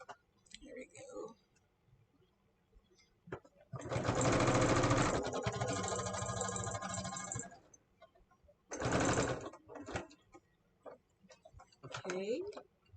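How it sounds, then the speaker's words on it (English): Sewing machine stitching canvas for a tool apron in two bursts, a long run then a short one, with quiet clicks and a person talking in the pauses. "So now I'm going to go ahead and sew this down."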